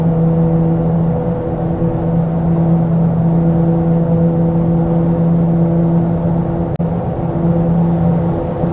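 A lifted Ford Excursion with a new V10 crate engine hums steadily while driving, a constant loud low drone with cabin whir and a brief click near the end.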